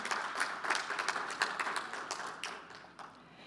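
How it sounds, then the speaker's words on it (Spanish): Scattered applause from a modest audience at a technical mining conference, individual claps distinct and irregular, fairly quiet and thinning out toward the end. "ahora seguimos con un aplauso, por favor, para Raúl"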